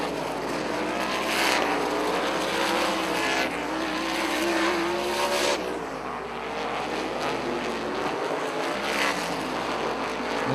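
Sprint cars racing at Rockford Speedway, several loud engines roaring past in waves as the pack sweeps into a turn, with sharp swells and fades of engine note over a constant crowd-and-track din.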